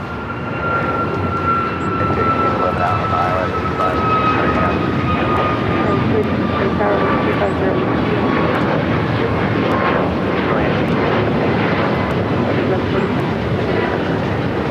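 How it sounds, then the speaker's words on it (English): Air Premia jet airliner taxiing and turning toward the Tom Bradley terminal at LAX, a steady loud engine roar with a high whine slowly falling in pitch, voices talking throughout. "Air Premia now making that turn, heading into Tom Bradley."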